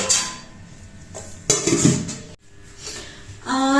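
A dish is set over kneaded methi paratha dough in a home kitchen, giving a couple of sharp ceramic clanks and a scrape amid quiet background sounds.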